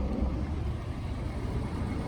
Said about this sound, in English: the car is idling